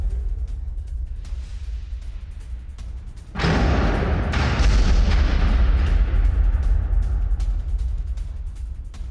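Explosions from an Israeli air strike on a Hezbollah base: a sudden loud blast about a third of the way in, followed by a sustained roaring rumble of debris and fire that stays heavy to the end, with faint thuds before it.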